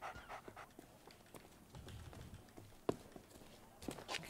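Quiet, rapid panting from a dog in the pirate video game Sea of Thieves, a soft rhythmic breathing with faint footfall-like taps and one sharp click partway through.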